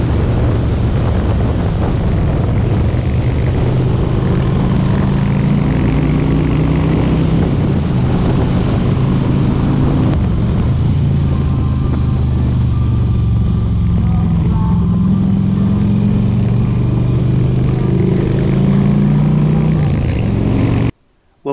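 A motorcycle cruises along a road near Nong Pla Lai Lake in Thailand, its engine droning steadily under heavy wind rush with rising and falling pitch as it shifts and accelerates, loud and continuous.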